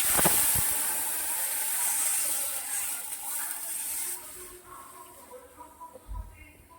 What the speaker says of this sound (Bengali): এখানে হচ্ছে মৌরি আর শুকনো লঙ্কা ফোড়ন দিয়ে দিয়েছি